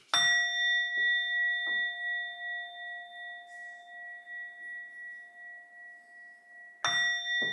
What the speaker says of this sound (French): Je vais sonner la cloche.